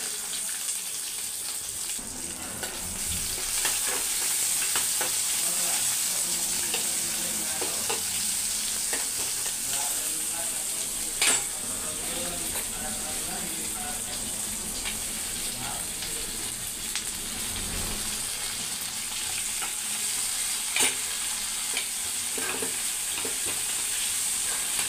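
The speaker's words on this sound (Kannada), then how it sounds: "ಕರಿಬೇವು ಹಾಕಿದೆ, ಆಮೇಲೆ ಉಳ್ಳಾಗಡ್ಡಿ ಸಣ್ಣಗೆ ಉದ್ದುದ್ದು ಹೆಚ್ಕೊಂಡೇನಿ, ಅವನ್ನ ಹಾಕ್ತೇನೆ" Onions and curry leaves fry in a pan with a steady, bright sizzle that holds throughout, with occasional clinks and faint speech in the background.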